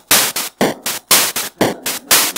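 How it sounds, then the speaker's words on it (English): Synthesized NES noise-channel drum set playing a straight rock beat: short bursts of hissy white-noise hits in a steady alternating kick-snare pattern, crisp and loud with no talking. "And then we can combine those together into a basic drum set that sounds like this."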